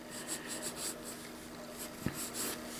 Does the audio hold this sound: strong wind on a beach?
no